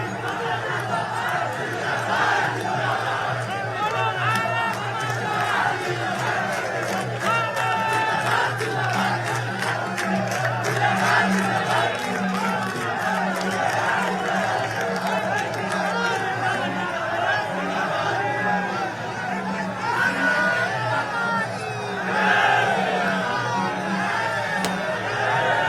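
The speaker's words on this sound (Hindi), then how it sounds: "आप देख सकते हैं किस तरह से गृह मंत्री अमित शाह के रोड शो में ये भारी भीड़" A dense crowd lines both sides of Home Minister Amit Shah's election road show convoy in Ghazipur. Continuous cheering, whooping and chatter surge throughout beneath a reporter's steady voice.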